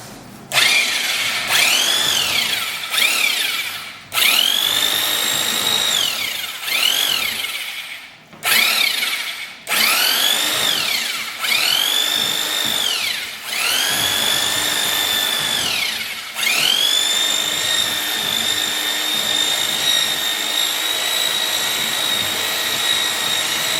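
A power drill whines at high pitch, revving up and winding down repeatedly in short bursts, then running in longer steady stretches; close and loud.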